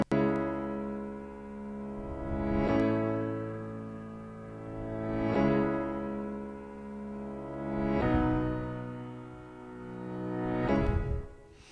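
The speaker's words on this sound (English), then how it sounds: "where the piano kind of leads into the next chord." Sustained piano chords ring out one after another, each new chord struck roughly every two and a half seconds and swelling before the next arrives, heard alone in a drum and bass intro.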